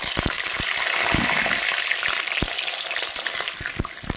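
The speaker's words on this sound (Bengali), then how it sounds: "এবার ওই বড়া ভাজা তেলেই আমি দিয়ে দেব আলুটা" Potato pieces frying in oil left over from frying lentil fritters, a steady dense sizzle with scattered sharp pops and crackles throughout, close and fairly loud with no talking.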